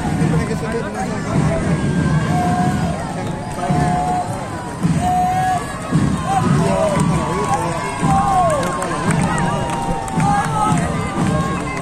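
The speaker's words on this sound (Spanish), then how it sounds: "Ahí está el aplauso." A large, steady crowd hubbub with scattered cheering and whistle-like tones rises from spectators lining a civic student parade in Guayaquil as a school delegation passes the main grandstand, with nearby voices mixed into the noise.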